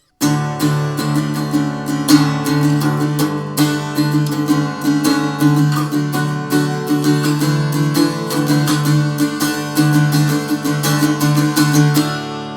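Guitar plays the intro chords of a song strummed quickly in a steady, driving rhythm, bright and continuous with dense strum attacks throughout, played alone without voices.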